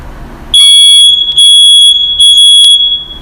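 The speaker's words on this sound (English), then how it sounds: "So press and hold the test button, and now we know our smoke alarm is working." Three loud, piercing electronic beeps from a smoke alarm sounding nearby while its test button is held, each held for about half a second with brief gaps.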